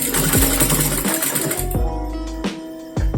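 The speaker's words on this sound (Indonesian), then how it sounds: "ini kita sudah selesai menjahit" A sewing machine stitches fabric for a khimar headscarf, running loud and close in steady bursts with its motor hum, briefly slowing and stopping a few times with mechanical clunks.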